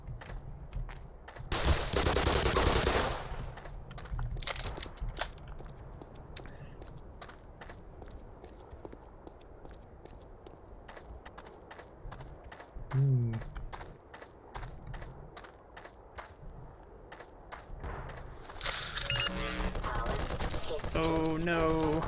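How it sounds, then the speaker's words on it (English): Enemy gunfire in the video game Black Mesa, rapid bursts of automatic shots crackling in clusters over game ambience, loudest in a short volley early on and again near the end. "Are you really shooting me? Yes, you are."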